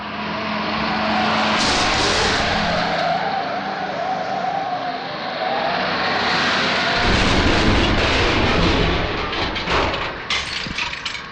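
A speeding transporter truck roars along as its engine drones loudly and continuously. The noise rises and shifts as the truck races toward a turn, with rumbling and rattling layered over it.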